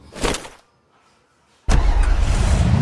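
A car engine in a video game catches after a brief starter burst and a short pause, then settles into a loud, steady idle that continues to the end.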